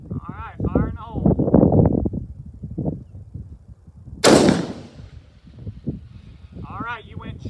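A single sharp, loud rifle shot from a Bergara B14 Wilderness Terrain in 6.5 Creedmoor at a long-range outdoor shoot, cracking once near mid-clip between stretches of people talking.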